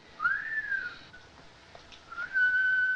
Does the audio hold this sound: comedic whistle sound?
yes